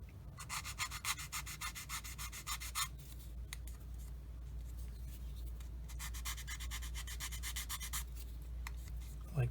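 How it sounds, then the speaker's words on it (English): Sandpaper rubbing the sprue gate of a plastic Tamiya 1/35 Panzer II model kit part, a steady scratchy rasp in two sustained bursts over a low background hum, with no talk. "I'm just gonna sand this and make sure that the sprue gate is nice and"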